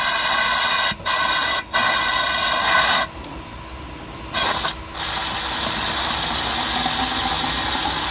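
Aerosol brake cleaner sprayed onto a part of a Ford F100 truck, a steady loud hiss running almost the whole time, broken by a few short pauses between bursts.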